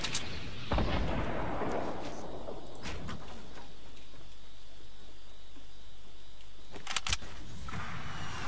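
RPG rocket fire in Fortnite: loud booming blasts and launches, with a big one near the start and sharp cracks near the end, separated by a rumbling, quieter stretch.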